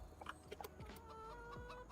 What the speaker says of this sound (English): Hello, chickens. Lots of chickens.